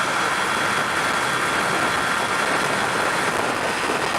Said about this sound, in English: I could do like 55 and that's my throttle is fully opened.